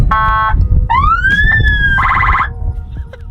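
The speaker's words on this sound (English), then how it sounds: "there are a series of police sirens that you can activate using the panel here" Police siren tones triggered from a vehicle's control panel play loud and close in quick succession: a pulsing warble, a rising then falling wail, and another rapid pulsing pattern over a low engine rumble.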